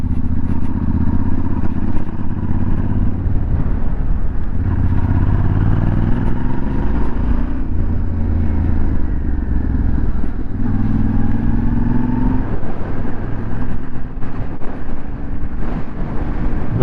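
A Yamaha Ténéré motorcycle engine pulls up a hill in third gear with a loud, continuous droning rumble and small swells in pitch as the throttle shifts, heard close up with wind noise and no talking.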